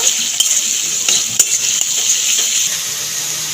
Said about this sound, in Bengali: আদা আর কাঁচা লঙ্কা বাটা ভালো করে কষিয়ে নেব